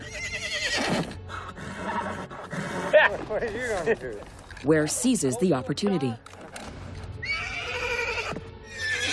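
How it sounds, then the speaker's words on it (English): A stubborn horse neighs and whinnies loudly several times, with hoof clip-clops in between, while voices speak over and around it. "Their strongest horse is stubborn."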